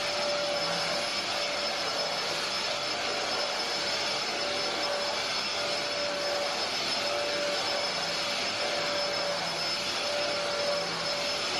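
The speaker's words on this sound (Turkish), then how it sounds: "Şimdi burayı da süpüreceğim." A vacuum cleaner runs on a home floor, its steady, loud whining drone continuing without pause and with no talking.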